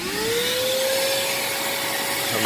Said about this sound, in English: I'm going to grab my shop vac here